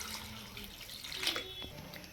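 Water runs from a tap into a cooking pot for cauliflower rasam, a soft, continuous splashing stream, fairly quiet and alone, with a brief brighter splash midway.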